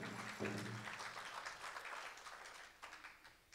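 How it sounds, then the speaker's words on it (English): An audience at a performing arts event applauds for a young Navajo princess titleholder in Chicago, a moderate, fairly quiet run of clapping that thins toward the end. "So a round of applause for Najoni."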